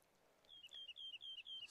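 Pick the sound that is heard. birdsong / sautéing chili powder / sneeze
birdsong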